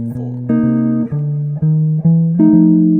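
On jazz guitar, a walking bass line moves in plucked single notes, with chords struck just ahead of each bass note's downbeat, heard clear and close.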